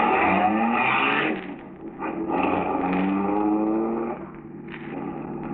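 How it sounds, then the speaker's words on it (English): Radio drama sound effect of a stolen car starting and roaring in, a loud engine drone with pitch climbing through gear changes, dropping and rising again as it accelerates. "Marola in the second car, the stolen car, starts."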